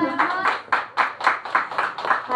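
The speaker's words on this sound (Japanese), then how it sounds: "改めて拍手" A small group claps at a celebration, a few seconds of rhythmic, moderately loud applause with regular beats.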